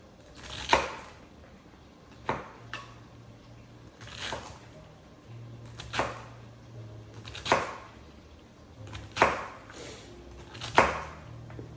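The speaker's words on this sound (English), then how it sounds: "cut the end off" A knife chops through a vegetable on a cutting board in sharp, separate strokes, about seven of them spaced a second or two apart, close and crisp, with a low hum in the background.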